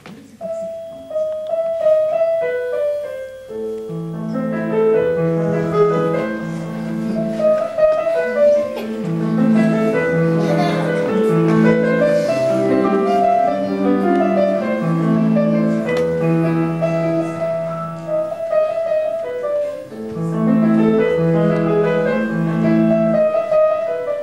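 Beethoven's Für Elise on piano: a steady, flowing melody over arpeggiated chords that builds into denser passages and then returns to the opening figure, played alone and clearly without any talk.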